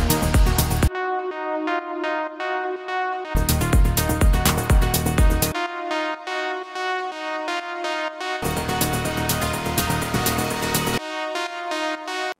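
Bright Serum synth plucks ring out in a steady melodic pattern, recreating the pluck from a track, with repeated sections where a fuller, punchier layer with low thumps joins in.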